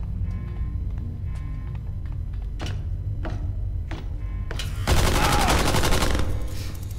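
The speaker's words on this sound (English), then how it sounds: "Shooting, that's not good at all." Video-game gunfire in Tales from the Borderlands: a few spaced sharp shots give way to a sustained loud burst over steady background music, with no talk.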